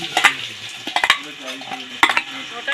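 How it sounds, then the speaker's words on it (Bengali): Hands kneading soft flour dough for luchi, a fried puffed bread, working it in close, intermittent bursts of sticky squishing and patting with brief pauses between pushes, no talking. "এই ময়দাটা আরও আমি একটু হাত দিয়ে মেখে নেব।"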